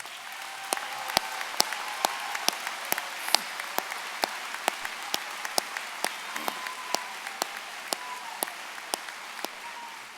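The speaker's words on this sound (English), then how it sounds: "please stand to receive one more round of applause from your FAU fans" At a Florida Atlantic University spring commencement, fans give student athletes another round of applause: a soft, steady patter of clapping from a large hall, with sharp nearby individual claps punctuating it at a regular pace.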